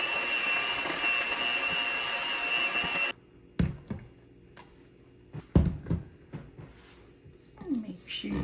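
An electric mixer beats Easter bunny cake batter in a bowl, a loud, steady whirring drone for about three seconds that then cuts off, followed by scattered clunks and knocks.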